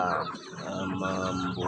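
Kampung chickens in a small backyard coop cluck and chatter continuously at close range, a dense overlapping flock sound filling the whole moment without any talking.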